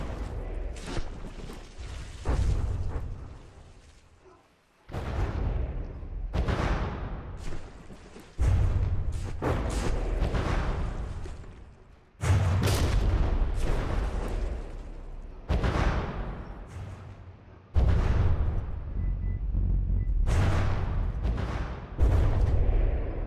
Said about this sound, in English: Significant explosions